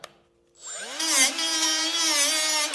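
A small hand grinder spins up and holds a loud, steady whine while grinding rust off a log splitter, close by with no talk over it.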